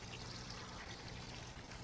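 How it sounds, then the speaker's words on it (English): Rainwater dripping off leaves after a heavy downpour outdoors, heard as a dense continuous wash of drips and trickling, steady and fairly loud with no voices. "There's so much rain dripping off of leaves because it was pouring here."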